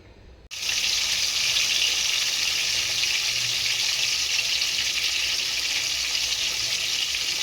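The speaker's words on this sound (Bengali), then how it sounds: "মাছটা হালকা হালকা ভেজে নেব" Pangas fish lightly frying in a pan gives a loud, steady hiss and sizzle that starts abruptly after a brief quiet moment and carries on evenly, with no talking.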